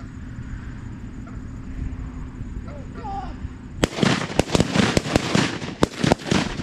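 Shotgun blasts on a goose hunt ring out in a quick volley of about half a dozen loud, sharp shots after a few seconds of quiet outdoor ambience with faint voices.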